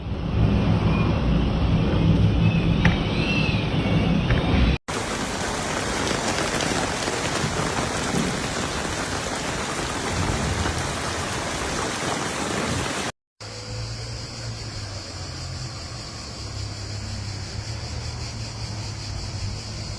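Heavy rain pours down during a strong storm in Split, Croatia, a dense, steady hiss of drops on surfaces heard across three abruptly cut segments, with no voices.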